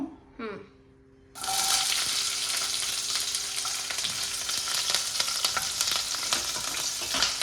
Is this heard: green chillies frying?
yes